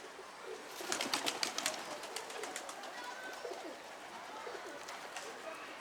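Pigeons murmur and coo softly in the background, with rustling and flutter-like bursts early on, fairly faint throughout.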